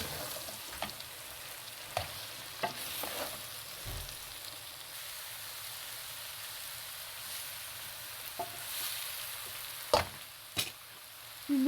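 Eggplant and potatoes frying in a pan give a steady close sizzle, with occasional scrapes and knocks of stirring over the top and no talk.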